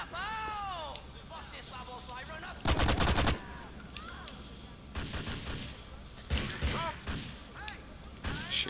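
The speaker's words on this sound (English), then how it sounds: "Shoot another RPG down" GTA 4: The Ballad of Gay Tony gang drug war with RPG launches and gunfire, loud bursts of rapid shots and blasts in several clusters, mixed with in-game voices and game sounds.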